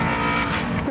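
An Audi quattro skidding sideways, tyre scrub and engine noise blending into one close, continuous roar with no voices over it.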